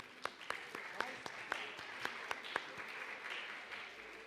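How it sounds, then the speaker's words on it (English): Audience applause for a school band's clarinet section at an awards night, a soft, steady patter of many hands with a few sharper individual claps standing out, heard from a distance and fairly quiet throughout. "Give them a round of applause."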